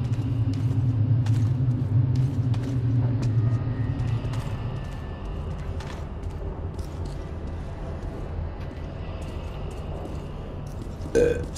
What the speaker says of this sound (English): Why is it every video I either burp?